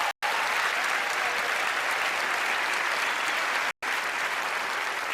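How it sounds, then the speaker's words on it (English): An audience at a magic show breaks into steady, dense applause, a continuous wash of clapping from a full crowd, briefly cut twice by short gaps. "Mark, let's give Mark a nice round of applause."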